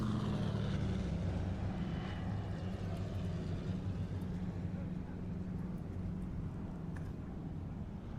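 A low, continuous drone of aircraft engines overhead in Hell Let Loose, a steady rumbling hum that holds at an even level throughout.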